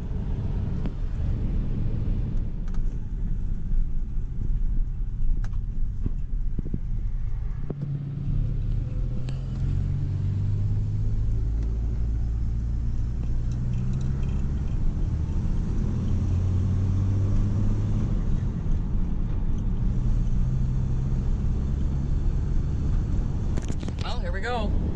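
Steady low engine rumble from a 1950 DeSoto Deluxe cruising along the road, heard from inside the car as a continuous drone with road noise and no break.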